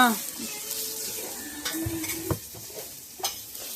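Cumin and wheat-rava upma ingredients are stirred in a hot pan: a low steady sizzle with scraping spoon strokes and a couple of sharp utensil clicks, close by.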